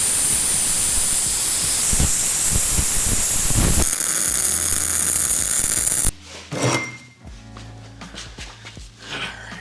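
A plasma cutter slices through metal to shape lower bump stop pads, giving a loud, steady roaring hiss for about six seconds before cutting off, followed by quieter clanks and handling noises.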